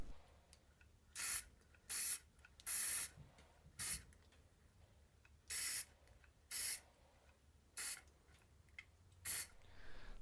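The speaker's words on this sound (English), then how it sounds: "I'm going to spot spray these areas here, build up a little more finish" Short bursts of a spray gun spraying lacquer finish hiss on and off in an irregular rhythm, each lasting about half a second, with quiet pauses between them.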